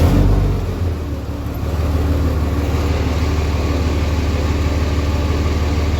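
A worn car engine, intake recently disturbed, cranks and catches, then settles into a steady, loud low idle with a faint rumble throughout; no talking.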